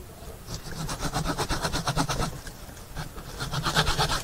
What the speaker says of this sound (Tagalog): So medyo mahirap na itong putulin kasi malaki na, maraming aerial roots at saka meron pang nakabaong wire.